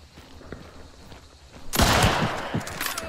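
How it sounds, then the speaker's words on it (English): A loud shotgun blast from the game Hunt: Showdown bursts in partway through, its booming report trailing into rumbling echo over quiet ambient footsteps and game noise. "He's shooting at me with a shotgun."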